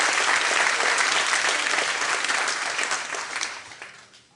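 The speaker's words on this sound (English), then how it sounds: "So let's give them all a round of applause." Steady audience applause fills a high school sports awards event, dense and close, holding loud before tapering off toward the end.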